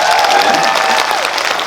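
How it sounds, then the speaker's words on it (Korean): Sustained applause fills a theatre audience at a Korean film guest-visit talk event for the movie Negotiation, a dense even wash of many hands with a voice faintly over it. "박수 한번 부탁드리겠습니다."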